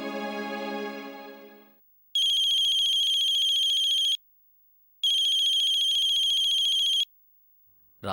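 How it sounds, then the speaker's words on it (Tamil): A phone rings for an incoming call in a Tamil TV serial, starting with a brief melodic tone and then two long, loud electronic ring bursts separated by silence, with no talking. "ராகுல் கால் பண்றான்"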